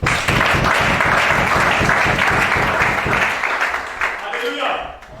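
A church congregation breaks into sustained, loud applause for Jesus, dense clapping filling the room before it thins and fades at the end.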